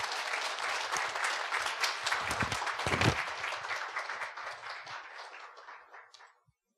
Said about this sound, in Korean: 우리 교수님 나오실 때 힘찬 박수로 맞이하겠습니다